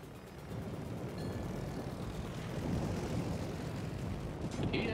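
Aircraft engines drone steadily in a World of Warships naval battle, a broad continuous roar that swells slightly toward the end, with no speech over it.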